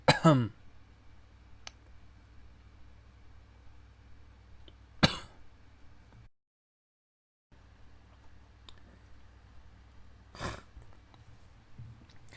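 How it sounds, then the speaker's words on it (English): Sparse, sharp coughs spaced several seconds apart over a quiet background, with faint clicks and a short gap of silence in the middle. "I think I'm going to have a coughing attack."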